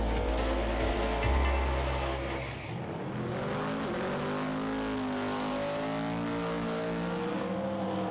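Pro Mod drag racing cars roar through qualifying at Santa Pod Raceway. A loud, deep engine rumble gives way to a rising, harmonic-rich revving howl that stays strong and close throughout.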